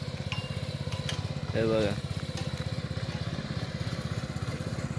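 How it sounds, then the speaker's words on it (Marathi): A tractor ploughing a field chugs in a steady, rapid engine rhythm from start to finish, with a person talking briefly over it. "आणि तिकडे ट्रॅक्टरने पण चालू झालं नांगरायला."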